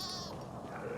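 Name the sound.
goats bleating in Dying Light 2 video game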